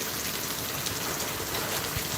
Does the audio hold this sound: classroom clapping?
no